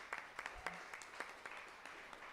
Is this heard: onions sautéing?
no